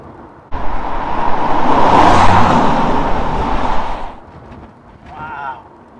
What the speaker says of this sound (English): put his foot down now in this V12, stretch its legs a little bit